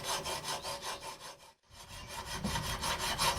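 A hand file stroked across the steel blade edge of hoof nippers, rhythmic rasping strokes repeating about every quarter second, close and steady, with one brief pause midway.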